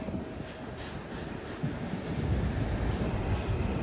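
A goods train runs on a parallel track alongside a moving express near Guntakal Junction, a continuous low rumble of wheels on rails that swells and grows louder toward the end, with no talk.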